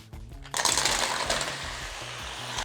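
Mussels tossed into a hot pan with olive oil and a whole peeled garlic clove, giving a sudden loud burst of sizzling and clattering shells that settles into a steady frying hiss.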